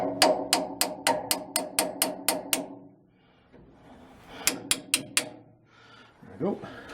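A hammer strikes steel wedges during a boat propulsion refit, a fast even run of about ten sharp metallic blows, a pause, then four more, close and loud.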